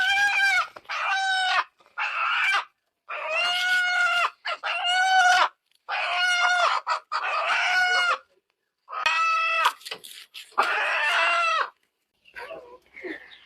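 Native country chickens call close by in a string of loud, harmonic clucking bursts with short gaps between them, the last few fainter.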